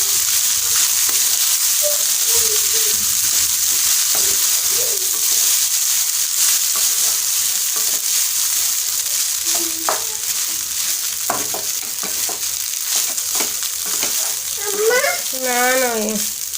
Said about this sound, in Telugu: రైస్ వేసుకుని బాగా మిక్స్ చేసుకోవాలి.